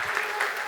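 A conference audience applauds as a guest is invited on stage, a brief burst of steady clapping at moderate level.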